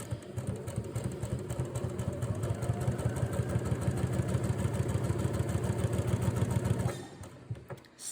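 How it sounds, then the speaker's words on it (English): Sewing machine stitching steadily across small quilting fabric squares for a flying geese block, a close, fast, even mechanical whir with rapid needle pulses for about seven seconds before it stops. "All right, we're gonna sew across."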